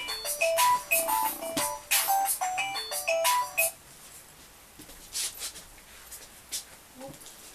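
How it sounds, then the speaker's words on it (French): A phone alarm clock rings with a bright, repeating electronic melody of chiming notes for several seconds, then cuts off. Faint room sounds follow in the quiet. "Excusez-moi mon réveil."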